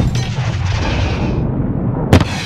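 Grenade blast in Call of Duty: Modern Warfare (2019) during the Embassy mission, a loud deep boom rolling into sustained rumble, followed by a sharp crack near the end.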